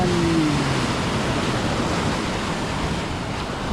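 Steady roar of ocean surf, a broad wash of crashing water filling the scene, loud and continuous with no talking.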